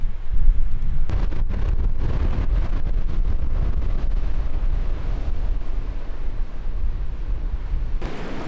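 Strong wind buffets across a bare, open mountain plateau in Saltfjellet, Norway, a steady loud rumbling roar that batters the microphone throughout with no voices.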